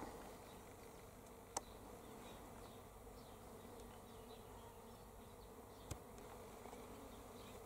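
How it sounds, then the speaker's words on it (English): A soft, continuous buzzing of many bees in a carob tree hums steadily outdoors in autumn, with a couple of faint clicks and no talking. "Listen to those bees humming away in the carob tree."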